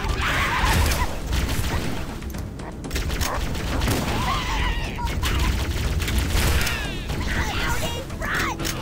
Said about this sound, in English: Stop throwing grenades at me, you stupid grunts!